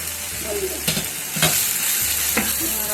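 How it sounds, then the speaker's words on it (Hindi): Minced meat (keema) frying in a pan, a steady broadband sizzle running throughout with a few scraping stir strokes near the start, middle and end. "कीमा अच्छी तरह भुन गया है, गल भी गया है।"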